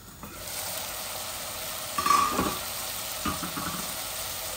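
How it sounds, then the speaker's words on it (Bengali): Meat and radish frying in a heavy pot: a steady, close sizzle throughout, with a couple of louder scraping stirs partway through. "এই দেখুন আমার মূলাগুলা ভালো করে আমি ভুনে ফেলেছি"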